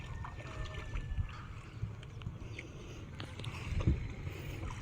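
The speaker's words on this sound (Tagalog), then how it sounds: "Yan yung bangka niya, maliit lang yung bangka niya oh." A small wooden boat moves on the water, giving a faint low rumble with light splashes and knocks.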